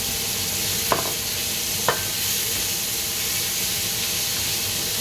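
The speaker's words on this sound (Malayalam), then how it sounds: "സവോളയും ഉരുളക്കിഴങ്ങ് അരിഞ്ഞതും കൂടെ നമുക്ക് ഇട്ട് കൊടുക്കാം" Chopped onion and potato sizzle steadily in a hot frying pan as they sauté, with two light clinks of a stirring utensil early on and a constant frying hiss throughout.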